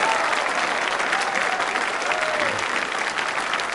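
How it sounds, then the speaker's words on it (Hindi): Enthusiastic audience applause honouring a guest at the Prashnottari quiz show at VIT East, a steady, close, full burst of clapping that holds for several seconds. "उनके सम्मान में एक बार बजाइए तालियां जोरों से"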